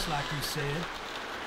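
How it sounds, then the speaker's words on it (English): Steady rain falling outside a barn in The Walking Dead video game, a soft continuous hiss running under a brief line of spoken dialogue. "sitting out in the rain like a damn deer"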